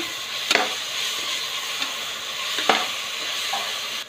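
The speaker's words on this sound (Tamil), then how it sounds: "இப்போ நம்மளோட இஞ்சி பூண்டு பேஸ்ட்டு போட்டுக்கலாம் இப்போ இதை நல்லா வதக்கிக்கலாம்" Ginger garlic paste sautés in oil in a pan for coconut milk rice, a steady close sizzle broken by a few sharp scrapes of a spatula stirring it.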